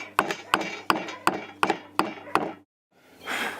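A stonemason's bush hammer strikes stone seven times in an even rhythm, sharp close knocks about a third of a second apart, followed by a brief pause and a soft rubbing noise.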